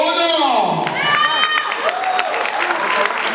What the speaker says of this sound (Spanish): Aplauso para el número uno.